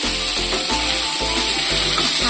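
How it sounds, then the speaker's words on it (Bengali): Potatoes, ridge gourd and split chili stirred in a hot pan for a home-style rohu fish curry produce a loud, dense, close sizzle with quick scraping stirs, no talk. "দেব আলু, ঝিঙে, ভালো করে নাড়াচাড়া করে নেব"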